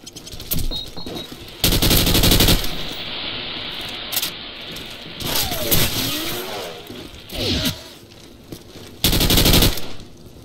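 A minigun in Call of Duty 4: Modern Warfare unleashes several loud sustained bursts of rapid fire, separated by short gaps filled with game effects and swooshing movement sounds.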